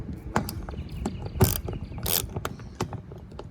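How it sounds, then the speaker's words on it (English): A socket ratchet clicks in short bursts while tightening a 10 mm mud flap bolt on a Tesla Model Y, with a few quick ratcheting runs and light mechanical taps at close range. "Get the 10 mil socket under here. That's tightening."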